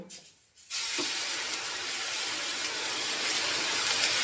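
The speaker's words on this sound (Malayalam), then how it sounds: "ഉപ്പിട്ട തിളച്ച വെള്ളം ഒഴിക്കുകയാണ്" A steady hiss of boiling salted water being poured, starting abruptly after a brief quiet moment and continuing evenly, close by.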